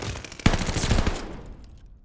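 Light machine gun fire in Call of Duty: Vanguard, a short rapid burst of loud close shots lasting about a second, then fading out.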